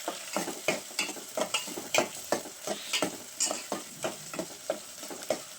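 Fresh green peas are stir-fried in oil in a pan for uppittu, with a steady sizzle broken by regular, rhythmic scrapes of the spatula about twice a second, close and clear with no talking.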